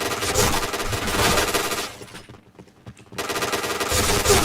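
Dense, loud gunfire from the PointBlank shooter game fills the clip with rapid overlapping bursts. The shooting breaks off for about a second and then resumes at full intensity.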